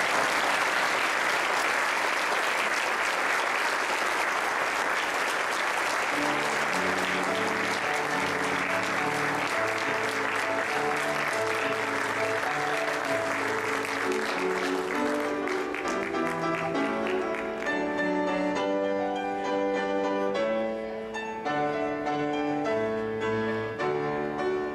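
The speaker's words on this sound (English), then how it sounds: "And you clap." Wedding guests clapping for the newly married couple, a loud steady wave of applause that continues as organ or piano music rises beneath it and gradually takes over.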